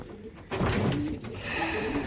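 Racing pigeons in a loft give soft, low throaty coos, a couple of close calls over a quiet room.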